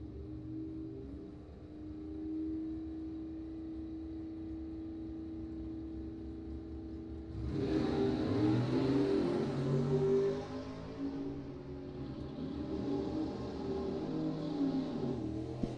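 A Copo Camaro and a 1990 Cavalier launch at a bracket drag race, engines idling low and steady before a sudden loud roar of hard acceleration that holds then rises and falls with gear changes, heard from trackside.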